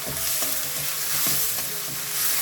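Capsicum and mixed vegetables stir-fried in a little oil, a steady loud sizzle with soft scraping stirs throughout.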